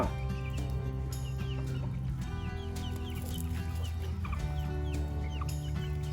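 Several chickens cluck and call repeatedly over a steady low hum, with a rooster among them, close and fairly loud.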